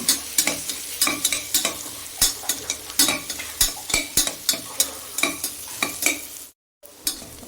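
Chopped ginger and garlic sauté in hot oil for a jackfruit-seed and dried-fish curry, a close sizzle broken by rhythmic scraping stir strokes roughly every half second, with a brief silent gap near the end.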